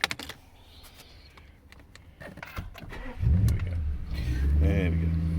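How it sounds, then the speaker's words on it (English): An Audi S8 4.0 TFSI bi-turbo quattro starts up after a few small interior clicks. The engine catches with a rising low rumble and then settles into a steady, close idle. "I've got the engine as well."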